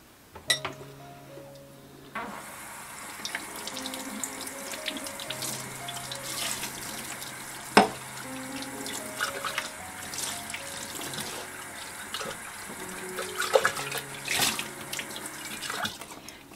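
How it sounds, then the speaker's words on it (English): Kitchen tap runs steadily into a sink while glass canning jars are washed, with occasional close clinks and knocks of glass over the continuous splashing flow. "So now I'm going to go ahead and wash my jars."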